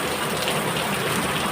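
Heavy, steady monsoon downpour pours without a break, a dense, loud hiss of rain striking surfaces close by, with no voices.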